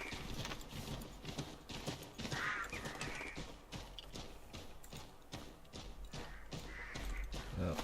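Horse hooves in Assassin's Creed III beat out a quiet, steady clip-clop rhythm, with faint mechanical clicks mixed in.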